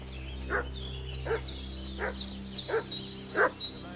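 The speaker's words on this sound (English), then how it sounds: "What's that dog making such a fuss about?" A dog in Kingdom Come: Deliverance II barks in five separate bursts at a steady pace, moderately near, against a low ambient hum with no talk.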